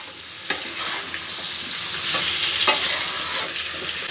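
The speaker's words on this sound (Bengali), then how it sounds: "একটু ভালো করে নাড়াচাড়া করে ঢাকনা দিয়ে দেবো।" Potato and pumpkin pieces are stirred in a hot frying pan, with a continuous oily sizzle and scattered scraping strokes of the spoon against the pan, close and steady throughout.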